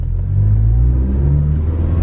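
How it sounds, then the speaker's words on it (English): A manual-transmission car pulls away in first gear, its engine giving a loud, steady low rumble that swells briefly as the throttle opens. "That's first gear. I'm putting gas to go."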